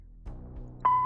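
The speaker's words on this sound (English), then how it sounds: "Where's the beep?" A short electronic answering-machine beep from the video game Kathy Rain 2, a single steady tone arriving near the end after a quiet room-like background, clear and moderately loud.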